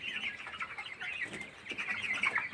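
Broiler chickens about seventeen days old cluck and chirp steadily in a poultry shed in winter, a dense, continuous flock murmur at moderate distance with no voices over it.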